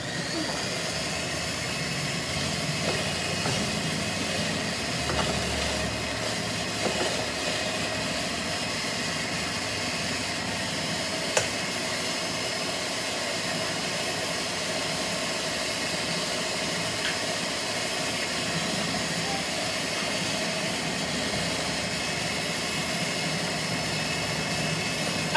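Electric mixer blending cake batter in a bowl, a steady whirring motor hum with hiss running unbroken and fairly loud, nothing else over it.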